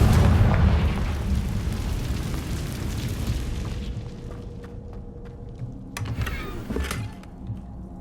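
In Hogwarts Legacy, a Confringo blasting curse goes off as a loud, deep explosive boom that rumbles and fades over several seconds, followed by a few sharp bursts and crackles.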